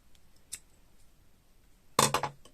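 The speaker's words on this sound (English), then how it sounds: "My huge scissors," Large scissors snip through crochet yarn in a single close, sharp cut near the end, with a faint click earlier and quiet room tone otherwise.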